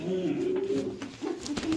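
Pigeons coo at a busy pigeon market, soft rolling calls repeating close by, moderately faint, with little else over them.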